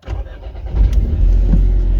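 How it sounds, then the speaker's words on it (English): A Seat Ibiza FR engine cranks and fires up, a short start followed by a loud, steady low idle rumble close by. "Start the engine just to make sure."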